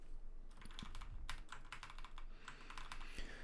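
Fingers tap a computer keyboard entering balances, with a quiet, close run of irregular keystroke clicks throughout and no voices.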